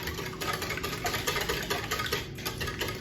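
Whisk beating egg and liquid ingredients for Belgian waffle batter in a small bowl, a quiet rapid rhythmic clatter of tines against the bowl, steady and close with no talking.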